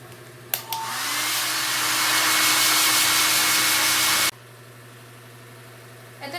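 A hair dryer blows loud and steady for about four seconds on hair just treated with keratin during an at-home straightening, then cuts off abruptly, leaving a quiet background hum.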